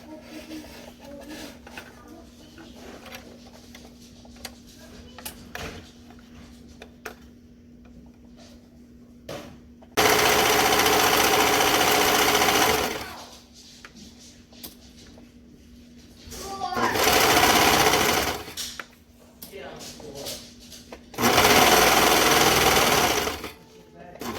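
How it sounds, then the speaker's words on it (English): Close-up, a sewing machine joins jogger pieces at a half-inch seam allowance in three loud sustained runs, separated by quieter gaps where someone talks over faint handling noise. "I'm going to sew them together, still using the 1/2 inch seam allowance"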